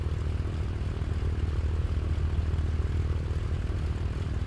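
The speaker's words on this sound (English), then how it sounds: "So we'll just let the engine cool down." Turbocharged Beechcraft A36 Bonanza engine idling in a flight simulator, a steady low droning rumble that holds an even, unbroken level throughout with no talk over it.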